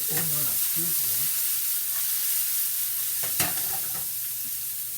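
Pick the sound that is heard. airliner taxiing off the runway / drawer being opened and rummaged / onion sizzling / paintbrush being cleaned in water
onion sizzling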